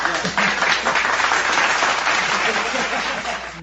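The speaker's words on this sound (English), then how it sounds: "It's kind of a lame applause" A loud, dense applause sound effect on a podcast, steady crowd clapping that holds for several seconds then tapers slightly, with some voices mixed underneath.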